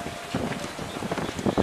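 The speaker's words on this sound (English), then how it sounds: "Oh, it's windy up here." Wind gusts across the top of a lookout tower at the Key West shipwreck museum, a steady close roar with rustling buffets and no talking.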